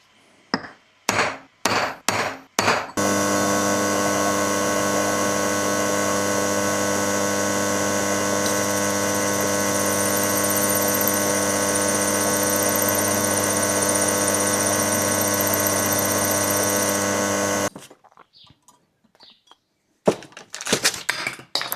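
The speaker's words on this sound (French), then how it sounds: "Et je vais commencer à percer." Several sharp taps of a centre punch precede an electric drill that spins up and bores a hole with a loud, steady whine for about fifteen seconds, then stops, followed by faint clatter.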